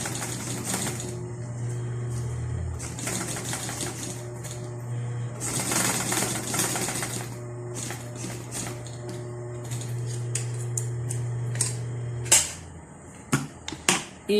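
A small sewing machine fitted with a homemade drive belt stitches steadily with a loud, constant mechanical hum, then stops and gives way to scattered clicks and taps near the end.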